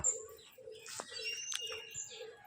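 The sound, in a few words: pigeons cooing in a coop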